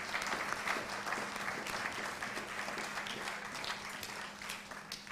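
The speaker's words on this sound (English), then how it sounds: "So let's give him a round of applause." A congregation at a worship service claps in a steady, sustained round of applause, moderately loud and even throughout, with a faint low hum in the room.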